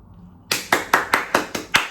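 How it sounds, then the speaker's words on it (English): Six sharp, evenly spaced hand claps ring out close and loud in a quiet room, a short deliberate round of applause from a single person. "Round of applause."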